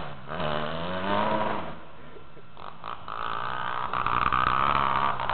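A motorcycle engine runs unevenly on bad fuel, its rough, sputtering note close and loud throughout, the idle wavering and surging rather than holding steady.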